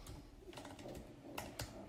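Quiet tapping on a computer keyboard while entering code, a quick run of soft, close keystrokes with a couple of sharper clicks near the end.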